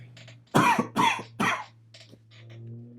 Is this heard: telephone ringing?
no